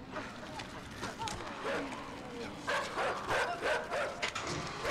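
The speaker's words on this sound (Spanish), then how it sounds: "Me gustaría coger los perros estos y mandarlos un poco a su casa" Dogs bark and yip in the video game INSIDE, a flurry of short, fairly near barks that grow more frequent in the second half, with no talking.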